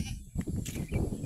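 Village goats, a mother and her kid, bleat close by in a rural Assamese field, several short wavering cries in quick succession with no talk over them.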